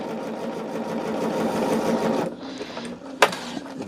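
Quilt strips pinned together run through a sewing machine in a steady, fast continuous whir for about two seconds, then the motor stops and a few softer clicks and a sharp snap follow, close and clear with no talking.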